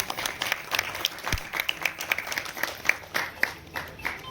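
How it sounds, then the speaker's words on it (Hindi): An audience at a retirement party claps with scattered individual hand claps, moderately close and fairly sparse, keeping up throughout with no voices over it. "जोरदार तालियों के साथ स्वागत है।"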